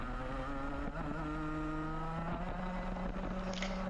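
Rotax Max Junior racing karts, including an X kart, scream along a circuit near a horseshoe hairpin, a steady loud high-revving two-stroke drone with shifting pitch and several engines overlapping close by.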